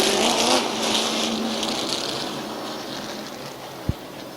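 Late model race cars run an 8-lap heat at Midvale Speedway as a distant, steady engine drone under wind noise, with a short sharp knock near the end.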